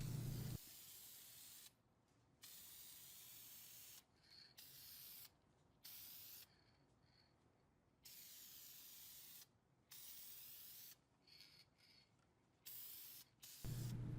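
Clear lacquer sprayed from an aerosol can onto a wooden table saw push stick, several close hissing bursts of about one to two seconds each with short quiet gaps between them.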